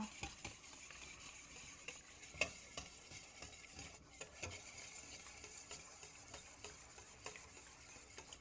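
Milk is stirred into donut batter in a bowl, with a steady, quiet run of soft scraping and tapping strokes close by and no voices.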